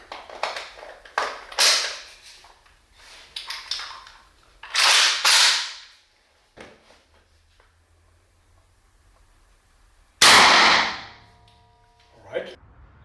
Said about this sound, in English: now we fire the Subsonic and then the full power round just with the muzzle brake without the silencer